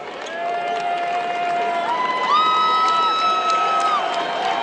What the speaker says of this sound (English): So a nice round of applause from the Massillon faithful